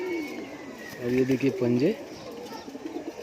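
A rare Pahalvan breed pigeon coos in a short, rolling burst close by, while someone talks over it before and after.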